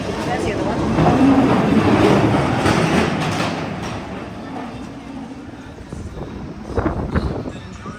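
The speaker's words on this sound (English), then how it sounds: "Gotta go on the ghost train." A ghost train amusement ride at Pleasure Beach resort rumbles and clatters along its track, a loud, continuous rolling noise with some sharper knocks near the end, while people talk over it.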